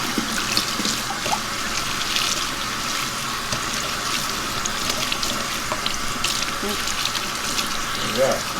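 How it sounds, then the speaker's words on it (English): Running tap water rinses deep purple and blue-violet dye from a pleated tie-dye tee in a sink, a continuous close splashing hiss with occasional spatters. "This one is going to take quite a bit of rinsing, people."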